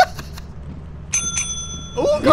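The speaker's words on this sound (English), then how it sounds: "And then just like spam the bell next to it." A bell in a video game is rung repeatedly in short bright bursts, first in a quick cluster and then in a longer ringing burst, while players talk and laugh over it.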